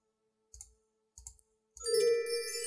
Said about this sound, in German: Ich klicke hier alles wie blöd an.